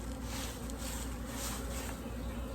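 Honeybees drone in a steady, dense, close buzz from an opened hive during a December winter inspection, continuous and even throughout.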